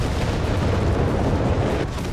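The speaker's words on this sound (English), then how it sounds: "Nebelwerfer at it again." Nebelwerfer rocket artillery firing in the Company of Heroes 3 strategy game, a dense rumbling barrage of launches and blasts, loud and continuous for the whole span with no talk.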